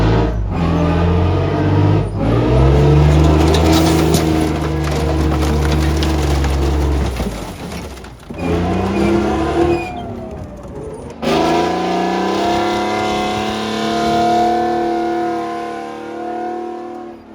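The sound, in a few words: tank engine revving while driving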